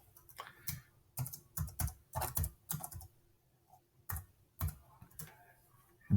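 Keys clacking on a computer keyboard in short, irregular clusters of taps with brief pauses between, close and fairly quiet, no talking.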